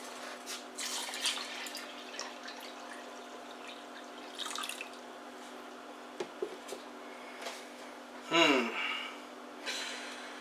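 A jug of water poured over grated beets, giving a low, steady splash and trickle with scattered drips and a brief louder gush near the end, close by and fairly quiet with no talking.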